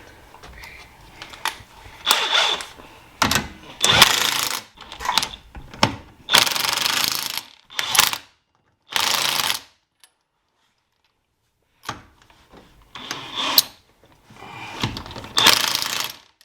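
Lug nuts are tightened on a Corvette Stingray Z51 fitted with three-piece Forgiato wheels, with repeated bursts of rattling impact-tool buzz separated by short pauses and a stretch of silence.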